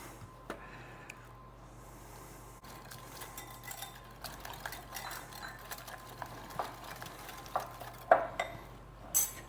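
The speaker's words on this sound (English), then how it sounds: "Give that a nice stir." Egg mixture stirred in a bowl for a Tex-Mex breakfast casserole, heard as soft, faint scraping and light clinks that grow a little busier toward the end.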